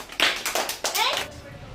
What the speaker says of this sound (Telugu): Right, good claps.